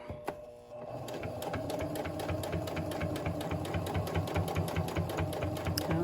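A Kenmore 385 sewing machine runs steadily with a twin needle on scrap fabric, its rapid, even mechanical chatter close and continuous for several seconds after a brief click at the start.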